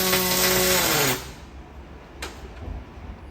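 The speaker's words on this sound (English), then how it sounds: "if you listen closely, you can hear the 4-stage Feronius welder coming in hard with the hot start welding" A Fronius aluminium welder runs with a loud, high, steady whine that drops sharply after about a second. A quieter low hum follows, broken by one short sharp burst.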